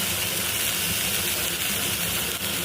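Moringa (pevga) greens tipped into hot oil with fried onion, green chilli and paste, giving a steady, loud sizzling hiss with no talk throughout.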